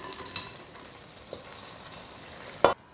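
Leftover oil sizzles quietly in a wok after beef has been stir-fried with Sichuan bean paste, ginger, scallion and garlic, a soft, steady frying hiss with a few light clicks and a sharp louder clatter near the end.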